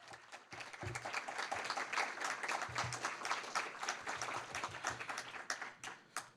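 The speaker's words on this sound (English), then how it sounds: "Can we give one more round of applause for Martine?" Audience applause after a university lecture at McGill, a dense wash of many hands clapping steadily for about six seconds before thinning out at the end.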